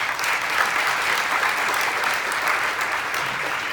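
Steady, loud applause fills the room from a jazz concert audience at a holiday show, with dense clapping that holds at an even level throughout.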